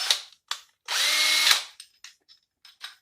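Half-inch power drill whirring in one loud burst of about half a second, framed by short clicks and bumps of handling, with no talk.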